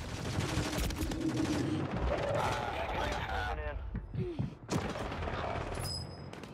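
Rapid gunfire bursts and scattered single shots ring out in a first-person shooter's Season 3 Rebirth match, dense and continuous under a player's excited voice, with a brief lull and then more shots near the end.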